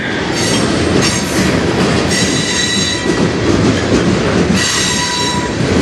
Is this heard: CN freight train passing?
yes